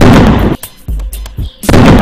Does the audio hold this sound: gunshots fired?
yes